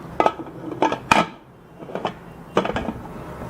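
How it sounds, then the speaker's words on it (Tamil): Metal clanks as a lid is set onto a pot holding a cake tin on a tray for an eggless no-oven zebra cake, several sharp knocks and rattles in separate bursts, close and clear. "இப்போ இதை மூடி வச்சிடலாம்"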